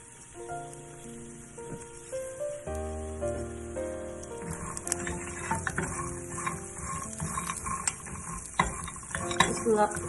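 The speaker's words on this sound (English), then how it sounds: "Let's roast it on medium heat. Keep stirring it." Spoon stirring and toasting a dry fruit ladoo mixture in a pan over medium heat, with scraping, clinking utensil hits and a faint sizzle, close and continuous under soft background music.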